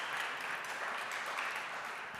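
Audience applause at an innovation conference in Berlin as a startup CTO is called up to the stage: steady, dense clapping from a room full of people, moderately loud and continuous with no talking over it.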